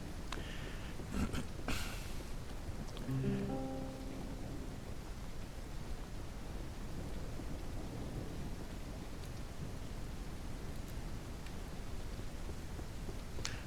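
Heavy rain pours steadily in the Ranch Simulator video game, a dense hiss that holds throughout, with a few low rumbling thunder-like bursts near the start.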